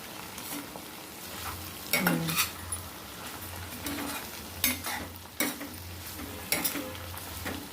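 Ridge gourd fries in a pan under a low, steady sizzle, while a metal spatula scrapes and clanks against the pan in a few distinct bursts, close by with no talking.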